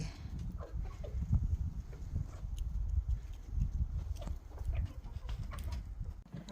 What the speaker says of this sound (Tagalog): Ayan ang mga tandang, ang dami.